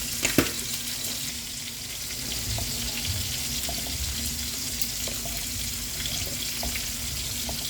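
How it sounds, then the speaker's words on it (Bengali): Spice paste frying in a pan for a hilsa and brinjal curry, with a steady close sizzle and hiss running throughout and a few brief clinks near the start. "মশলাটা ভালো করে কষিয়ে নেব"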